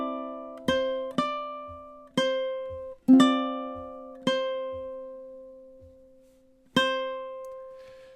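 Ukulele plays measures 15 and 16 of the MASH theme, six plucked notes and chords struck at uneven intervals, each ringing and fading, close and moderately loud with no speech.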